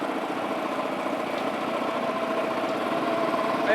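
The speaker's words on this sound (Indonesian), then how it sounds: "Lu dengar nggak teriakan motor gue memanggil nama lo?" A motorcycle engine idles steadily throughout, a continuous low mechanical rumble with slight vibration, close and fairly loud with no talk.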